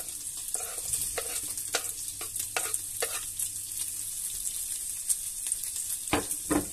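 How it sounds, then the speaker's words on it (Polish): Bacon sizzles and crackles steadily in a frying pan as it browns, with scattered sharper pops throughout. "Boczek skwierczy na paterni."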